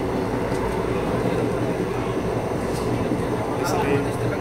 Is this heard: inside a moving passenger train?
yes